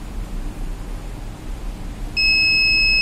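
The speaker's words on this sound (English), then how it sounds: "that is the indication of 1 second LED and buzzer indication" A buzzer on a Raspberry Pi IoT notice board starts up suddenly partway through and sounds as a steady, loud, high electronic tone that holds to the end, over a faint background hiss.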